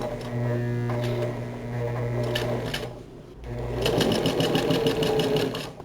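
A sewing machine runs a seam on a pair of shorts, a close steady mechanical hum and rapid needle clatter, pausing briefly midway before resuming faster with a quick rhythmic chatter.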